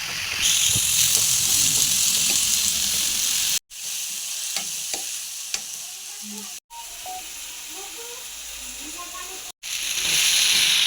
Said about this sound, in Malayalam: രണ്ട് തക്കാളി ചെറുതായി അരിഞ്ഞത് ഇട്ട് കൊടുക്കുക ആവശ്യത്തിന് ഉപ്പും കൂടി ഇട്ട് നന്നായി വഴറ്റുക